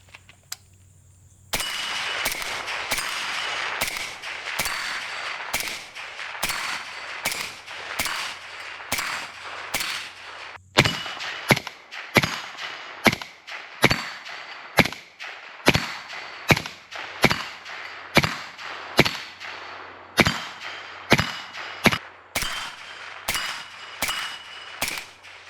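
A suppressed modern AK rifle fires over and over outdoors, starting with mechanical handling clicks and then delivering a long string of sharp, evenly spaced muffled reports roughly one per second, each cracking loudly and clearly against a quiet background.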